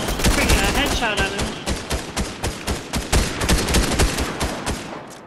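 Rapid gunfire in a Fortnite match, a dense run of sharp, punchy shots cracking in quick succession for the full stretch, loud and close with game effects layered beneath.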